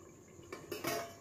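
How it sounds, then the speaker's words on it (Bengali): A metal lid clanks onto a cooking pot of boiling potatoes, a couple of quick soft clatters close by in a quiet kitchen. "আরেকবার আমি ঢেকে দিচ্ছি"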